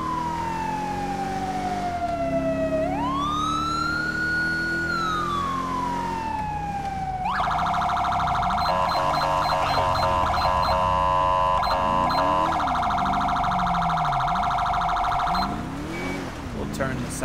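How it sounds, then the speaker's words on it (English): Police car siren from GTA V blaring loud and close, a long rising and falling wail that switches to a rapid yelp pattern partway through, running steadily for most of the stretch. "We'll turn the sirens off."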